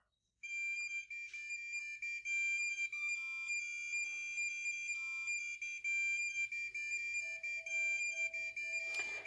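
A piezo buzzer driven by an Attiny85 plays a melody, a shrill, thin electronic tone stepping quickly through the tune's notes and sustaining close and alone for several seconds, ending in a brief burst of noise.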